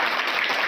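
Children clap together in welcome at a government upper primary school ceremony, a dense, steady patter of many small hands filling the brief moment without a break.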